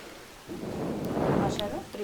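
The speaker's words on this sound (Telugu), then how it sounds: "రొయ్య కూడా ఉడకాలి కాబట్టి సరిపడా వాటర్ పోసుకొని" Water is poured into a pot of prawn tomato curry, a soft, rushing splash that swells for about a second and a half before easing, fairly quiet, with faint talking.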